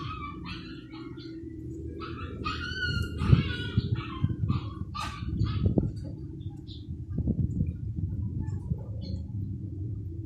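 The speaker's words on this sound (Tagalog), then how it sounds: "May umiiyak na aso sa kapitbahay." A neighbor's dog barks and whines at a distance amid faint background rumble in a rural province setting, with scattered bird chirps and some indistinct voices nearby.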